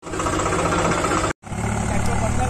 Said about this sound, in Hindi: ये अभी ट्रैक्टर चालू है यहाँ पे